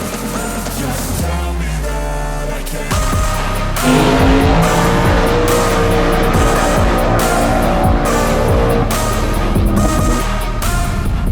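Old car spinning its tires off the line at a street takeover, a loud, close roaring engine with long screeching tire squeal that builds and holds, under a noisy outdoor crowd.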